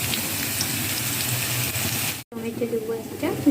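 Fish sizzles and fries in a pan with a dense, bubbling hiss, broken by a brief dropout, then continuing more unevenly as a voice speaks over it.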